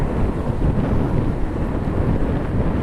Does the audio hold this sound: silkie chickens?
no